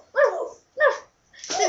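A dog barks at home, three loud, close barks spaced about half a second apart with silence between them.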